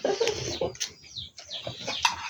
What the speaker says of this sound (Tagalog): Where's the chicks? The chicks.